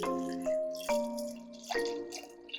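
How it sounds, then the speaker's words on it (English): Water splashes and spills while a smoothie blender container is being filled, giving a series of bright, burbling gushes with rising pitch as the container fills, close and clear without talk. "Not the water just spilling everywhere"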